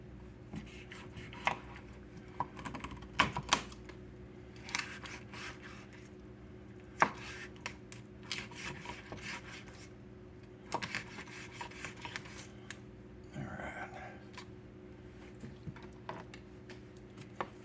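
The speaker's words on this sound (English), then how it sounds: "we're going to slice these breasts in half" A knife slices through raw chicken breasts cut from a whole chicken, producing quiet, irregular taps and sharper knocks on a cutting board, scattered throughout without any talk.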